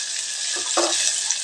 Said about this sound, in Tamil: இதையும் நல்லா வறுத்து விட்டுறலாங்க